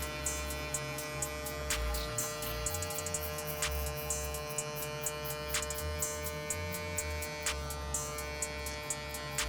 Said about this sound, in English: now we're going back in with the clipper